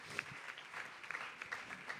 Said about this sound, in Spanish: dar aplauso para o Senhor